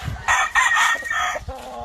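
A McRae rooster on a farm gives a single loud, close crow of about two seconds, with short breaks between its rising and falling phrases.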